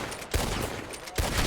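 Gunshots ring out in Red Dead on the WildRP roleplay server, two sharp reports about a second apart over a noisy, crackling background.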